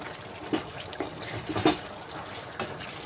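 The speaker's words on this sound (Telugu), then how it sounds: "ఇప్పుడు రైస్ వేసేద్దాం అందులో" Rice is tipped into a pot of boiling water for bagara rice, giving a few soft splashing rustles over a steady bubbling hiss, close and moderately loud.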